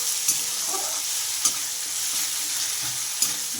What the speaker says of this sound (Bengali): এবার এটাকে ভালো করে একটু নাড়িয়ে একটু মিশিয়ে নিতে হবে একটু কষিয়ে নেব মশলাটা